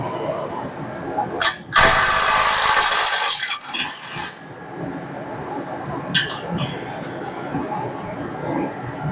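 A Milwaukee M12 stubby impact wrench rated at 550 foot-pounds, used on a '68 Mustang, gives a loud rattling burst lasting a couple of seconds, then a second shorter burst, followed by quieter garage noise.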